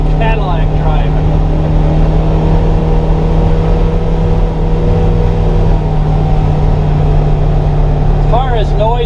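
A Polaris Northstar UTV engine drones steadily from inside the cab while driving over humps on a property, a constant loud low hum with faint voice traces at the start and end.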